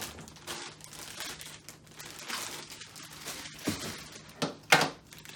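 Plastic toy packaging is cut and pulled open, giving close, intermittent crinkling and rustling with a few sharper snaps toward the end.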